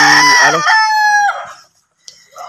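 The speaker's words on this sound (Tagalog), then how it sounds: "Yung mga alaga nating sabungin." A gamecock rooster crows once, loud and close, its long call trailing off, followed by faint clucks and rustles; no speech.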